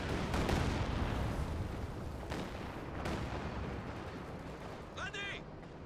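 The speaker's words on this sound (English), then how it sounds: "One more volley of rockets." Rocket volley in the video game Company of Heroes 2, heard as a dense rumbling barrage with several sharp launch bursts, set against continuous battle noise.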